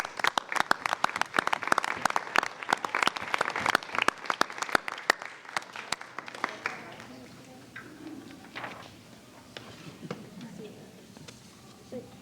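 Audience at a school board meeting clapping for student award recipients, crisp close handclaps that thin out after about six seconds into scattered claps, quiet room sounds and faint voices.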